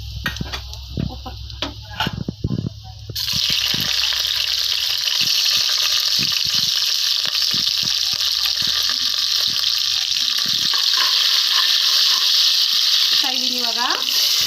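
Whole spices (cinnamon, cloves, cardamom) with coriander, mint and dried fenugreek leaves hit hot oil after a few clattering knocks, then a loud, steady hiss of frying continues without pause.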